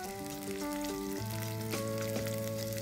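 Onions and garlic with turmeric and salt sizzling in a pan, a faint, soft continuous fry alongside steady tonal sounds that shift pitch a few times.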